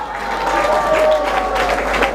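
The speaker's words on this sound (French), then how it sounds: "Applaudissons pour l'honorable." Audience applause and crowd noise at a gala evening, steady and fairly loud, with some voices mixed in, sustained throughout the short stretch.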